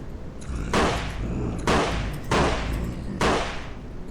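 Rifle shots in a zombie video game, four loud sharp blasts spaced roughly a second apart, each with a short decaying tail, close and alone with no talk.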